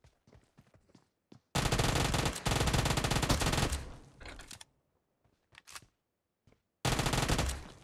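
Bursts of automatic gunfire from PUBG Mobile, a long loud sustained volley followed after a pause by another burst, with scattered single shots and clicks between.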